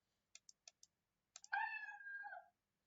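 Several quick soft clicks, then a single drawn-out cat meow sound effect played in Scratch 3.0, lasting about a second, clear and close.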